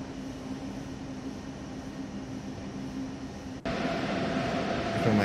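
A long 14-car train rumbles along in Train Sim World 3 on a historic run toward Aachen, a low steady drone with a hum, then a sudden jump to a louder, brighter rushing roar near the end.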